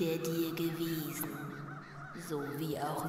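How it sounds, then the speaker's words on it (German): A flock of crows caws in the background of The Night of the Rabbit, scattered calls under steady music while someone talks over them. "Wenn man im Hintergrund noch die ganzen Krähen hört."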